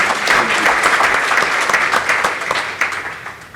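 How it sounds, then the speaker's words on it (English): Crowd at a youth pre-conference session applauds, a steady wash of many hands clapping indoors that holds strong, then gradually thins and fades toward the close. "Can we give him a round of applause for the good job he's doing?"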